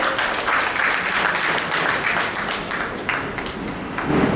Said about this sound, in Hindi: के लिए एक बार जोरदार ताली हो जाए।